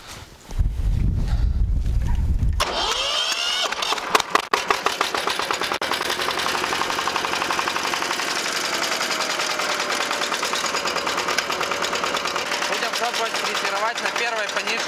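A Prorab GT100RDKe heavy diesel walk-behind tractor fitted with tiller cutters starts after a brief moment of talk, then settles into a loud, close, steady rapid chugging run.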